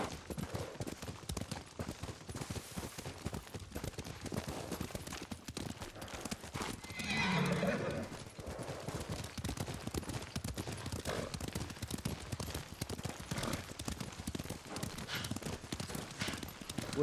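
Steady clip-clop of galloping hooves runs throughout, with a horse whinnying midway, all set against a busy, dense background, in the video game Ghost of Tsushima.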